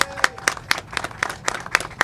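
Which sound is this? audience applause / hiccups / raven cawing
audience applause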